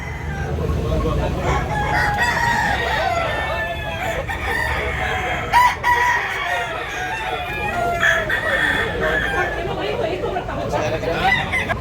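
A bullstag rooster at a Tabunok, Cebu City market crows repeatedly, its calls ringing out over clucking fowl and chatter from people nearby.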